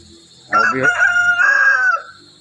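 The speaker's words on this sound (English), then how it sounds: "It's a noisy cockerel tonight." A cockerel crows once at evening on a farm, a loud, close drawn-out cock-a-doodle-doo with a rising start and long held end, standing alone in a quiet setting.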